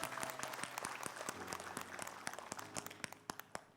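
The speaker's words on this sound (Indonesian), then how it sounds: "Tepuk tangan dulu dong Bu." A studio audience at an Islamic talk show gives a short round of applause, steady dense clapping from many hands at moderate distance that thins out into a few louder separate claps at the end.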